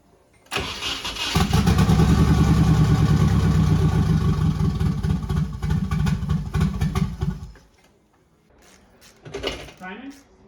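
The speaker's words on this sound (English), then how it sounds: "we're just going to get it started and see how it does" A Nissan 240SX with a turbocharged KA engine cranks and fires up into a loud, rough rumble. It holds a few seconds, then cuts out, followed by quieter clicks and a short second burst near the end.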